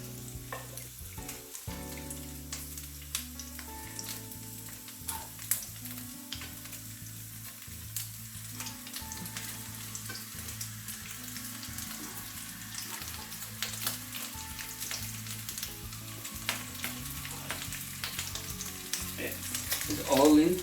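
Onion and vegetables fry over high heat for pepper steak. A loud, continuous oily sizzle carries on throughout, with occasional stirring knocks and a low, steady hum beneath, and it swells near the end.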